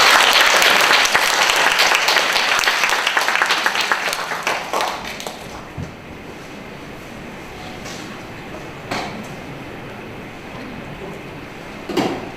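An audience at an indoor corporate event claps loudly and densely, the applause fading out after about five seconds, with a few scattered claps and faint room noise after.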